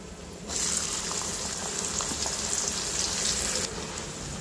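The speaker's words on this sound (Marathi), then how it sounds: "आता इथे आपल्याला कांदा छान खमंग परतून घ्यायचा आहे" Onion sautéing in hot oil with fried peanuts for jowar ukadpendi, a close, steady hissing sizzle that swells suddenly and holds for about three seconds before easing back to a softer bubbling.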